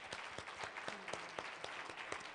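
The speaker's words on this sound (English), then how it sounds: "clap for yourselves" Audience applause at a young women's conference, steady dense clapping from a crowd filling the whole stretch without speech.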